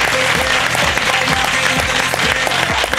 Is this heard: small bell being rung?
no